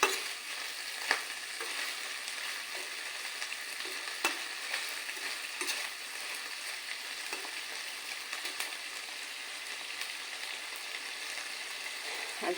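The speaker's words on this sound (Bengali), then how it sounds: "চিংড়ি মাছগুলোকে আমি ভালো করে ভেজে" Large shrimp frying in a pan, a steady broadband sizzle with occasional pops and stirring scrapes, continuous and close, with no voices.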